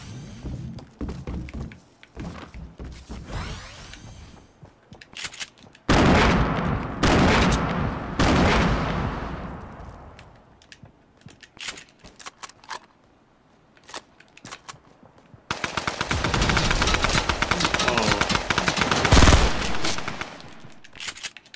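Gunfire in the Fortnite video game: sparse single shots, then a heavy burst of blasts, then a long stretch of rapid automatic fire near the end, all loud and close.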